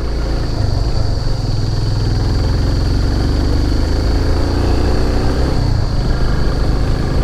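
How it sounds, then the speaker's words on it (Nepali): A 250 cc motorcycle pulls uphill in second gear with a loud, steady engine drone and wind rumble, heard up close from the rider's position with no talk. "दुईमा प्ल्याएर तानिरहेछ मेरो बाइकले"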